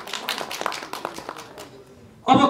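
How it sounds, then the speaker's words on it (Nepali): A film trailer release audience bursts into loud applause near the end, a sudden dense clatter of many hands after a quieter stretch of voices and room murmur. "एकचोटि जोरदार ताली।"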